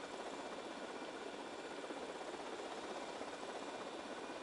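Helicopter engine in the GTA Vice City video game, a steady, loud broadband rotor and turbine roar that holds constant throughout with no pauses or talk.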